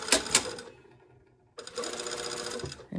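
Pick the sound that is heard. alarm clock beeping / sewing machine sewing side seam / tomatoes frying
sewing machine sewing side seam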